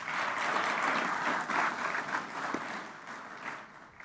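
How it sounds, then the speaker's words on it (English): Audience at an opening ceremony in a Kempinski hotel hall applauding, a dense burst of clapping from a large crowd that holds steady and then gradually thins out. "Give yourselves a round of applause."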